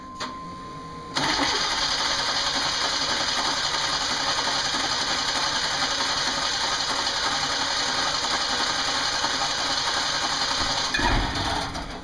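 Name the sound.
1992 Chevy Camaro V6 cold start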